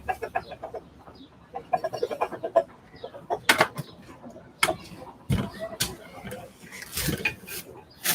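A rooster clucks and squawks in sharp bursts alongside people talking, with clattering noises scattered through.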